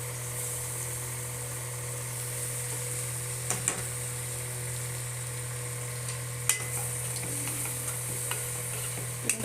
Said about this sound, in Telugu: పిండుకొని తిప్పుకుంటే అయిపోయింది.